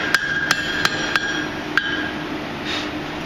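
Five sharp hammer blows land on a forged iron pintle, spaced unevenly over about two seconds, each ringing metallically against a steady background hum, followed by a quieter stretch.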